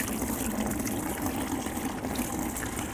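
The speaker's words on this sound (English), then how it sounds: "we are going to add 1 gallon of water" Tap water pours steadily into a bucket holding a compressed coco coir brick for a roughly two-gallon pot, a continuous close rushing and splashing fill with no talk.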